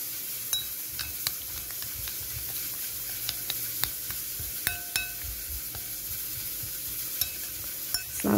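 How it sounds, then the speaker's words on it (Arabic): Parsley, lemon juice and olive oil are stirred together in a bowl for a Moroccan salad, with soft wet mixing and scattered clinks of a utensil against the dish over a steady background hiss. "ونخلط هاد العناصر كلها"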